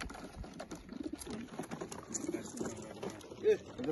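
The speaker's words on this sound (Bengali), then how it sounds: "কবুতর রিলিজ হওয়ার জন্য ছোটাছুটি করতেছে" Racing pigeons, about thirty birds, shuffling and cooing softly before release near the India border, faint low coos and rustles with a brief louder call and people talking nearby.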